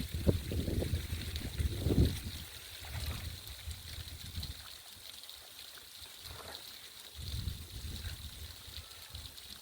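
Water runs from a pipe in a pepper garden, a steady, soft, broad hiss with occasional low rumbling bursts throughout, no voices.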